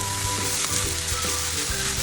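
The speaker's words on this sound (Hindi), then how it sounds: "इन सब वेजिटेबल को हम बहुत थोड़ा सा फ्राई करेंगे क्योंकि इनको बिल्कुल सॉफ्ट नहीं करना" Vegetables for chicken burgers frying lightly in a pan, a steady close sizzle with occasional stirring clinks throughout, no voices.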